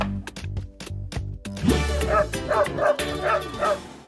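A dog toy made from a juice carton voiced with yips and bow-wow barks: a run of short, sharp barks, then a longer whimpering, whining passage. Everything is close, loud and heard alone.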